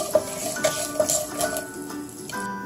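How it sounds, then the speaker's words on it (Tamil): Urad dal and cashews roast in a pan over a medium flame, with a few light metallic clinks of a utensil stirring against the pan at close range. "இந்த உளுந்தம்பருப்பு முந்திரி இதெல்லாம் கொஞ்சம் பொன்னிறமாக வர வரைக்கும் நம்ம கேஸை கொஞ்சம் மீடியம் ஃப்ளேம்லேயே வச்சு கொஞ்சம் வறுத்து விட்டுக்குவோம்"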